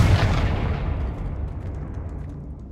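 A single loud explosion from the Confringo fire spell in the video game Hogwarts Legacy, a deep booming blast that rumbles and slowly fades over a few seconds.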